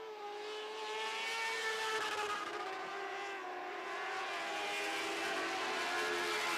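A Lightning Sprint race car's 1000cc engine buzzes at high revs against its electronic CDI rev limiter near 14,000 RPM, a steady loud drone with a slight stutter, no voices.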